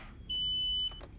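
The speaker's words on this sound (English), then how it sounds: "beep in the world." A single loud, piercing electronic warning beep sounds steadily for about half a second in the cockpit of a PA31 Cheyenne in the X-Plane 11 flight simulator, over low engine hum, followed by a few soft clicks.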